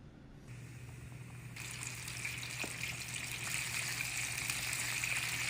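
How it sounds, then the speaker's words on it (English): Food dropped into 350-degree frying oil sizzles in a steady, hissing crackle that swells to a louder, fuller sizzle partway through and holds there, close by, with no talking. "Fry them for 10 to 12 minutes or until their internal temperature is 165."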